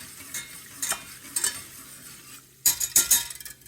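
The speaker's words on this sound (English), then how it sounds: "you gotta keep stirring" Butter being browned in a pan is stirred with a utensil, giving a few scraping, sizzling strokes that grow louder and busier toward the end, heard alone without talk.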